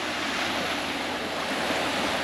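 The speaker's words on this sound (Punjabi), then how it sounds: "ਤੇ ਆ ਸਮੁੰਦਰ ਦੀਆਂ ਛੱਲਾਂ" Ocean surf near Cathedral Cove, New Zealand, roars in a steady, dense wash of breaking waves on the beach, loud and continuous with some wind and no voices.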